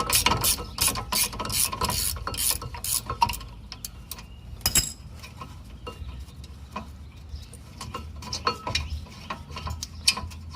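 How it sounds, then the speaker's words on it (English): Ratcheting wrench clicking while working on the brakes of a 2002 Honda Accord Coupe, fast close clicking runs at the start followed by sparser ratchet clicks and metallic clanks, no talking. "The ratcheting wrenches are nice because sometimes they can get places a little better than even a regular ratchet and socket can."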